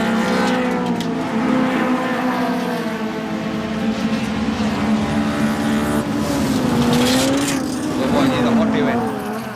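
Race cars in the up-to-1600cc class roar loudly around the Katukurunda Rotherham circuit, engines droning steadily with rising and falling pitch as they pass, while a commentator talks over the noise.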